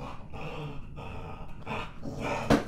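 A pet dog growls in aggressive play, giving low rumbling growls in several short bursts with brief pauses, close and moderately loud, ending in a sharp louder sound, with no talk.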